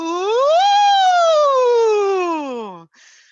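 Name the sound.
voice imitating a siren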